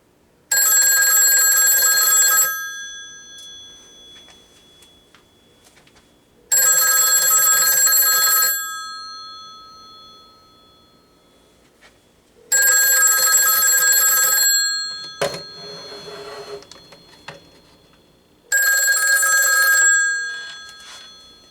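A vintage 554 rotary dial telephone's mechanical bell rings loudly and close in four long rattling bursts of about two seconds each, separated by pauses of several seconds, with faint handling noise in between.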